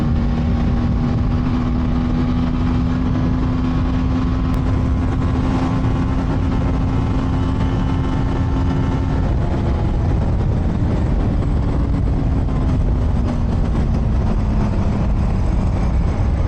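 A TVS Apache RTR 310 motorcycle engine held near top speed in fifth gear, a loud sustained drone with rushing wind noise, its pitch steady and then shifting slightly later on.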